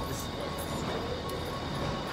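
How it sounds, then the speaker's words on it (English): Steady rumbling roar of an Atlanta subway train in motion, with a continuous broadband rush and faint high squeals, no voices. "We're on the subway."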